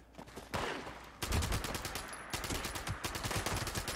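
Gunfire rattles in the video game Fallout 76, rapid bursts of automatic shots that come in dense volleys, loud and sharp with brief gaps between.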